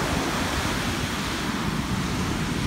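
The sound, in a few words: sea waves washing onto the beach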